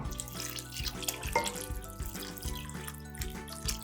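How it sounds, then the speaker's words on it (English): Water pours steadily from a tap into a pot of parboiled pork belly, giving a continuous splashing rush with a slight drip-like sparkle, close and moderately loud, with no voices. "Add water until the pork is just covered."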